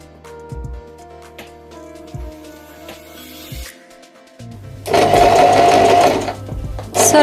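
A Janome 1000A sewing machine makes a few short thumping stitches, then runs a loud, steady motor buzz for a couple of seconds near the end, with no talking.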